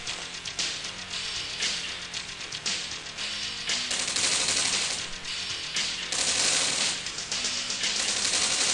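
Prototype Apache helicopters fire on medium tanks in the C&C Dawn of Tomorrow game, a continuous rapid rattle of automatic gunfire with crackling impacts, dense and loud throughout without pause.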